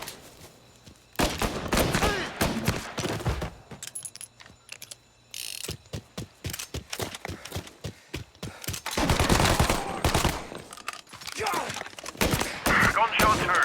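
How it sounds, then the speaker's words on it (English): Gunfire from the Mafia Definitive Edition video game comes in bursts of sharp cracks and rapid volleys, separated by short quiet gaps, with mechanical clicks and reloading sounds around them. "Gunshots heard. Please respond."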